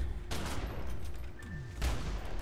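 Shotgun fire in The Secret World game, with two sharp blasts about a second and a half apart over low background noise.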